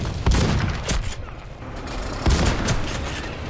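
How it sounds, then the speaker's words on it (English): Shotgun blasts in the shooter game Warface, two heavy booms about two seconds apart, each followed by echoing rumble and other gunfire, loud and close. "All I can do is use shotgun."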